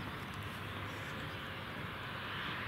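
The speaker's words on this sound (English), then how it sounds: "Look at this beautiful aircraft." A Royal Air Maroc airliner's engines roar steadily at Brussels Airport, a continuous broadband jet rumble holding even and close throughout.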